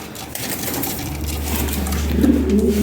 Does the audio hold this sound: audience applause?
no